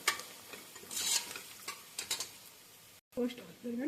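Chili powder roasts in a pan with a faint sizzle and scattered scraping stirs, quiet and close, as a voice briefly starts at the very end.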